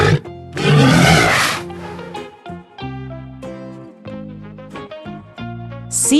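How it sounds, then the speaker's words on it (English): A walrus vocalizes up close, with a loud, rough, breathy burst followed by a run of deep tonal bellows and grunts that rise and fall in pitch. "Walrus."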